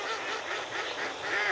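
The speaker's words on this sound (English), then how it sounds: "Now the ducks are talking." Waterfowl calling by a pond: a dense, continuous chorus of honking, nasal calls, steady and fairly loud throughout with no talk.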